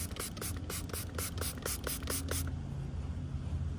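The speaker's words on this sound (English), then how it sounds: "all we have to do is spray onto a microfiber towel and then wipe it off with the clean side" Paint cleanser sprayed onto a microfiber towel while ceramic coating the wheels of a Dodge Challenger Hellcat: about eight quick, evenly spaced hissing bursts from a trigger sprayer, close and fairly loud, ending abruptly over a low background rumble.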